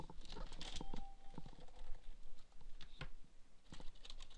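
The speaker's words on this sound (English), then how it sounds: "I'll type in" Computer keyboard typing, quick irregular key clicks in short bursts separated by brief pauses, close and moderately quiet.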